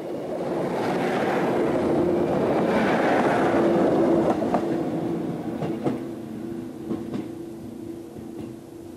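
A train passes on a busy railway near Exeter, a loud rushing rumble that builds then slowly fades as it moves away, with faint clanks and a steady hum beneath.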